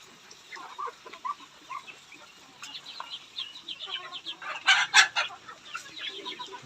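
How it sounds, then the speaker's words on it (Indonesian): Free-range village chickens (ayam kampung) in a small farm pen cluck and chatter at moderate distance, with irregular bursts of calls that swell into a louder squawking cluster midway before settling into scattered clucks. "Ayamnya cukup sehat-sehat."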